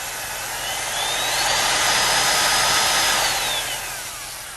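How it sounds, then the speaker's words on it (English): A drill boring a tiny hole in plastic tubing of a refrigeration evaporator, a loud continuous whine that rises and eases over a few seconds, heard alone. "You drill a tiny little hole."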